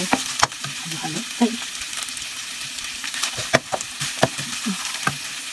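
Marinated ground pork being stirred in a frying pan with potatoes, giving a steady close sizzle with repeated scraping and clacking strokes of the utensil against the pan, heard alone without talk.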